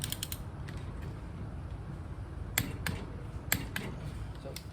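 Bolts on an ATI Super Damper harmonic balancer for an LS engine are torqued to spec. The wrench gives several sharp, close clicks and creaks, spaced irregularly over a quiet background.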